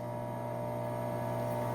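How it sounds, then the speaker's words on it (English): An ADJ Entourage professional hazer running, a constant close mechanical hum with a steady broadband hiss and no variation in level. "Now this isn't a quiet hazer."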